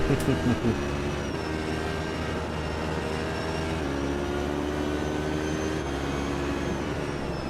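A Corvette race car's engine in a sim racing game, lapping Road America, drones loudly and continuously with a steady harmonic note that shifts slightly in pitch.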